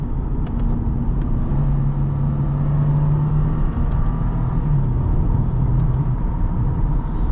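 A 2012 Lexus IS250 AWD driven with paddle shifting, a steady loud cabin drone of engine and road rumble in which the engine tone rises, shifts and falls as gears change, with faint ticks on top.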